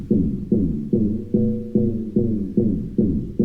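A deep synth bass plays a repeating pulse of evenly spaced notes as its LFO depth is turned up, each note swelling and throbbing, loud and close.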